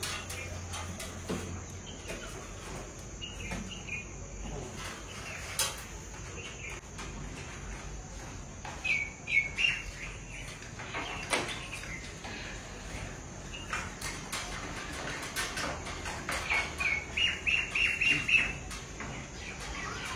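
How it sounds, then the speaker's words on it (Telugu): Birds chirp and squawk around a rooftop terrace garden, with scattered short calls that grow busier and louder in bursts toward the end, set against steady background noise. "పిట్టల సౌండ్ లేని ఎన్ని రోజులు అవుతుంది ఫ్రెండ్స్?"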